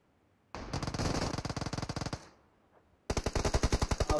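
Automatic gunfire from an M7 assault rifle in the mobile game PUBG Mobile, two loud rapid bursts of evenly spaced shots separated by a short pause, close and without talk.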